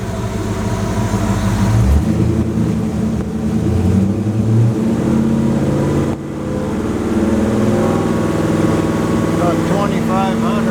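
A car engine fitted with an Edelbrock AFB carburetor, idling at about 720 rpm, then revved up and held near 2500 rpm, a loud rising engine roar with a brief dip partway through.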